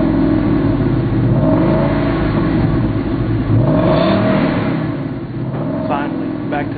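A loud 5-liter V8 engine of a Ford Mustang GT with cold air intake revs repeatedly, pitch sweeping up and down through the gears, with a voice talking over the engine noise.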